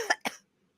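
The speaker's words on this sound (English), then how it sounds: "cough." Two short, close coughs in quick succession, a sharp burst followed by a slightly fuller one, then silence.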